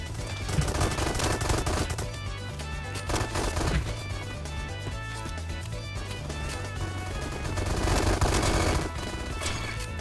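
Rapid gunfire from a Roblox Bad Business match, including a double-barrel shotgun and a new pistol, fills the whole stretch as loud, dense, continuous bursts of shots.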